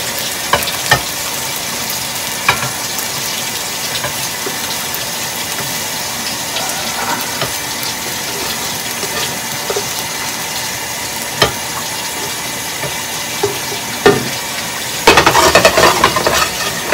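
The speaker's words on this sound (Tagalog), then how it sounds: "Luto na sinangag ko." Fried rice (sinangag) sizzles in a pan with a steady crackle and occasional scraping clinks, plus a louder burst of activity near the end.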